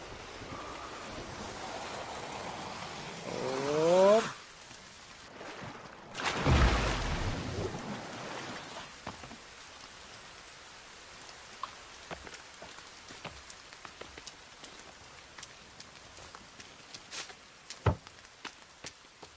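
Rain falls in the survival video game The Forest, a soft steady patter with scattered louder drops and a couple of whooshing swells early on.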